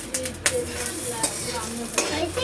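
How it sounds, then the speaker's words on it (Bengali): An egg poaching in a frying pan sizzles steadily up close, with a few scrapes and stirring knocks against the pan over the hiss. "এইটা হচ্ছে ডিমের পোচ করা হচ্ছে"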